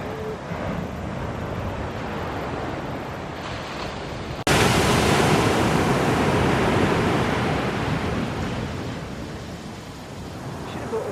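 Ocean waves wash continuously onto a beach in Abel Tasman National Park, New Zealand, a dense, steady roar of surf that swells louder partway through, heard close with no talk over it.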